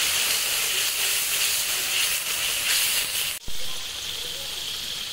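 Spice paste frying for a Bengali bata fish tel kalia sizzles with a loud, broad hiss. It breaks off sharply partway through, then goes on at a slightly lower, steady level.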